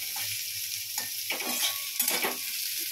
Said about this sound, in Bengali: হালকা হাতে একটু একটু নাড়তে থাকবো